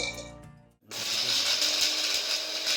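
A mixer grinder fires up to grind roasted spices and garlic into masala paste, first a winding hum and a brief pause, then a loud, steady whirring roar close by.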